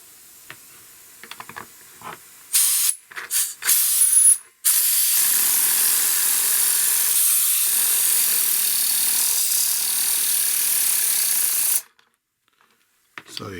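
A homemade compressed-air engine hisses loudly and steadily for several seconds after a few short bursts, then cuts off abruptly into near silence.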